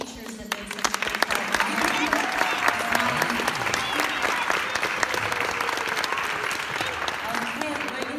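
A room full of people claps for the teachers at a Christmas recital, a sustained, fairly loud round of applause lasting throughout, with a voice talking beneath it.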